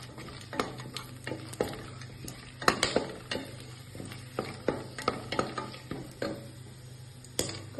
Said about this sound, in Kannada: ಪಲಾವ್ ಎಲೆ, ಚಕ್ಕೆ ಮತ್ತು ಲವಂಗ, ಫ್ಲೇವರಿಗೆ ಏಲಕ್ಕಿ, ಮರಾಠಿ ಮೊಗ್ಗೆಲ್ಲ ಹಾಕ್ಕೊಂಡು ಸ್ವಲ್ಪ ಫ್ರೈ ಮಾಡ್ಕೊಳ್ಳೋಣ